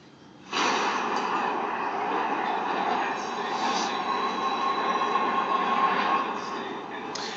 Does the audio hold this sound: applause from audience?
no